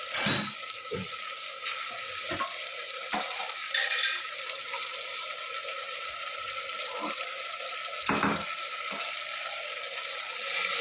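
A curry sizzles and crackles steadily in a pan, with occasional clinks and stirring scrapes as water hisses in.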